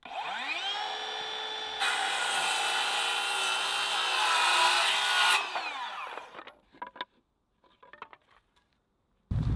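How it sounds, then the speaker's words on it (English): A circular saw spins up and cuts across a wood board guided by a speed square, a loud close whine with a sustained cutting roar, then winding down into light clatter and near silence. "you run your blade right up to that line and hold this tight and just use that as a guide"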